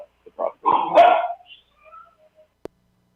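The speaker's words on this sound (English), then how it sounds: "We got dogs barking everywhere." A dog gives a few sharp barks and yips close by, loud short bursts followed by quieter trailing whimpers and a brief click.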